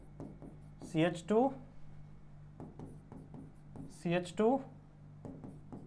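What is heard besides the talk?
writing on a board during a chemistry lecture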